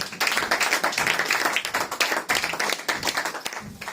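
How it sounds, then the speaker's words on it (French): A church congregation claps in acclamation during a sermon, a dense, loud burst of many hands with steady rhythm over about four seconds. "Acclame un peu pour mon Dieu."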